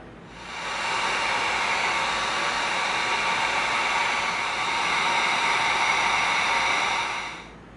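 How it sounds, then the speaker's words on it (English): A heat gun blows hot air onto EVA foam: a steady, loud, airy roar that starts quickly, holds evenly for about seven seconds and then cuts off, with no talking. "Now you hit it with the heat gun"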